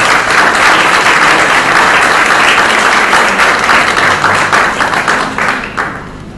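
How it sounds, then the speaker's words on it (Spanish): Close, loud theatre audience applause in Paraguay, dense sustained clapping that thins and fades away toward the end. "El aplauso es para don Tito Cardonal."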